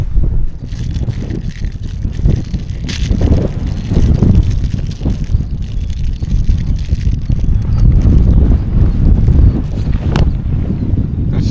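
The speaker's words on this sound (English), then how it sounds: "It's so windy." Strong gusting wind buffets the microphone on a bog hike in western Ireland, a loud, rough, continuous roar with sudden blasts and no one speaking.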